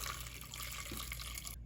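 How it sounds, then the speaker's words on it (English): Mulled wine (svařák) poured through a strainer into a bowl, making a steady, continuous splashing trickle close by that runs without pause and then stops abruptly. "and pour the mixture through."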